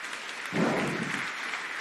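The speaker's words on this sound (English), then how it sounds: "Let's have a round of applause for David." An audience applauds a speaker after a talk, a steady wash of clapping that swells in after a brief quiet moment and holds at moderate level.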